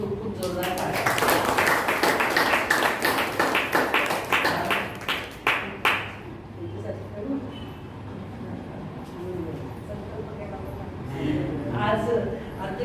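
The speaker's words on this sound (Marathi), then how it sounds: "खूप खूप जोरदार टाळ्या" Audience applause at an Independence Day celebration held at a Buddhist vihara, loud sustained clapping from a crowd for about six seconds, then fading into background murmur and voices.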